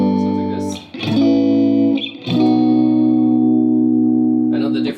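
Electric guitar chords run through a pedal's spring reverb setting, the kind found on old Fender amps, ring out in long sustained strums with a faintly springy, subtle reverb tail, loud and with no talking over them.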